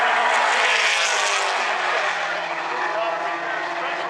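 Mini stock race cars roar around South Sound Speedway, a loud, continuous engine drone with a steady wash of track noise and no clear separate pass-bys.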